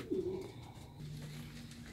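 Pigeons cooing inside a loft of young birds, a low throaty coo rising near the start and then softer, steady cooing murmuring through the rest, close and fairly quiet.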